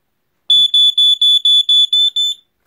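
A Sears Early One Gateway 462.57471 smoke detector sounds a loud, piercing, high electronic alarm in eight rapid, evenly spaced beeps, heard close and alone.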